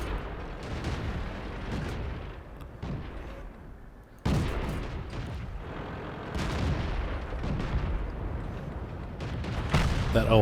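Tank cannon fire in the video game World of Tanks, a Panzer firing at the player's Pz S35 tank: heavy booming shots and explosive impacts over a rumbling battle din, with a loud blast near the middle and more shots toward the end.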